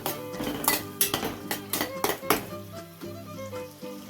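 Onion sautéing in a pan while poha is being made, heard as repeated metal clinks and scrapes of a spoon against the pan, a steady rhythm of close, fairly loud knocks over a low sizzle-like background.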